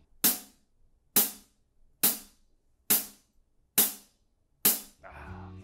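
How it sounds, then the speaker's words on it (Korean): A closed 14-inch Zildjian K Sweet hi-hat is struck six times at an even, slow pace, each a crisp, bright chick that decays quickly, heard close and alone. A different faint sound enters at the very end. "클로즈 하이햇 소리 들려드릴게요."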